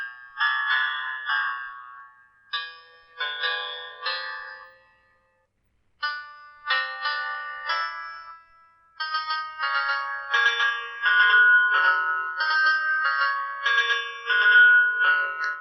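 Song played back by an Android piano app: bright, bell-like synthesized piano notes in short phrases separated by pauses, the melody growing denser and steadier toward the end, clean and close with no talking.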